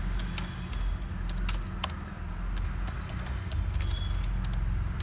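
Fingers tapping on a computer keyboard, a quick run of sharp clicks at an uneven rhythm over a steady low rumble of background noise, close and without talking.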